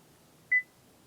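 A single short electronic beep from the dashboard of a 2015-2020 GMC Yukon XL during an oil life reset, clear and isolated over a quiet background.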